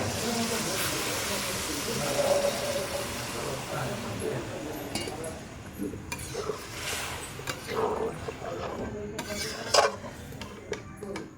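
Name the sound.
water added to sizzling fried spices in a pan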